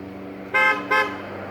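Two short honks sound from a passing truck's horn at the roadside, a quick double toot over low traffic rumble.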